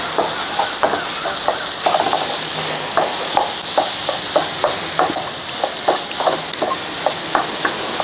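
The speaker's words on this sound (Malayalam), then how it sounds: "ഇനി ഇത് നന്നായിട്ട് ഇളക്കി കൊടുക്കുക." Egg thoran frying in a pan, stirred with a spatula that makes a steady run of sharp scraping clicks over a continuous sizzle, close and moderately loud with no talking.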